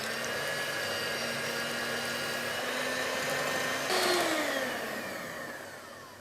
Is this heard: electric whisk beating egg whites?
yes